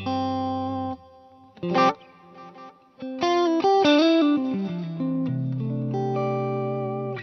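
Electric guitar through a Line 6 POD GO with simple delay and dynamic hall reverb plays sustained chords and a few picked notes, with echoing repeats and a spacious reverberant tail, no voices.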